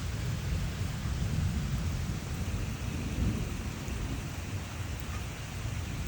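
Thunderstorm over a flooded garden, with steady heavy rain and continuous low rumbling thunder that swells and rolls throughout, close and loud, with no voices.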